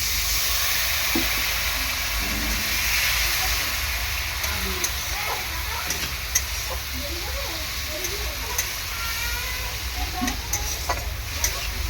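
Large snakehead fish pieces with turmeric and a little water sizzling and being stirred in a hot pan, a steady close frying hiss with scattered scrapes and clinks.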